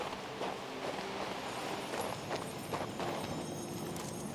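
Horse hooves clip-clopping as a mount is ridden in the video game King's Bounty 2, a quiet, steady run of hoofbeats over a soft ambient background.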